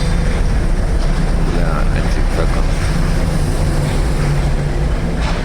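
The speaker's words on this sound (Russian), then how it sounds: "локомотивчик с вагонами" A shunting locomotive hauling wagons at Chisinau railway station gives off a loud, steady rumble with wind noise, while someone talks over it.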